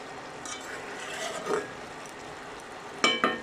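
Bottle gourd and hilsa fish curry stirred in a pot: quiet, close scraping and shuffling of a ladle through the pot, ending in two sharper metallic clinks, with no talking.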